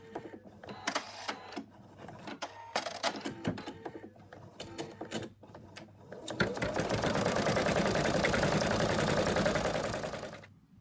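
An embroidery machine runs steadily for several seconds, stitching a placement outline for an in-the-hoop zipped ladybug purse, its rapid needle chatter loud and continuous after a stretch of scattered clicks and handling noises.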